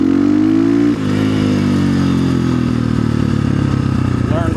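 Dirt bike engine revving loud and close, a steady strained drone that dips briefly near the start then holds with rising and falling pitch during wheelie practice on a dual-sport bike, no voices over it.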